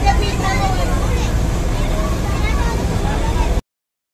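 Ferry boat on the open sea near the Gateway of India in Mumbai: steady low engine and water rumble with wind buffeting, continuous and fairly loud, with faint crowd babble mixed in.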